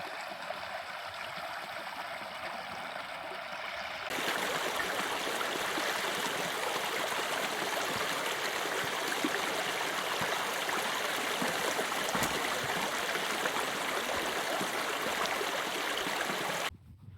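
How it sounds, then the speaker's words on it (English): Rattlebrook, a moorland stream on Dartmoor, runs with a steady, full rushing and babbling that swells louder after a few seconds and continues unbroken, with no voices. "Rattlebrook itself is running quite nicely"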